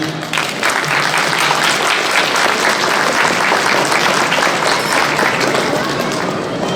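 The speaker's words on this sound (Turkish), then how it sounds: "Nikah değilirken böyle güçlü güçlü alkış alalım böyle." Wedding guests clap loudly and continuously during a civil marriage ceremony, a dense, close roar of applause that holds steady throughout, with voices mixed into the crowd noise.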